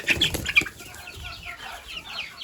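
Chickens cluck and squawk close by in a mixed backyard flock that includes a black-skinned naked-neck hen, with a few sharp calls at first and softer chatter after, no voices.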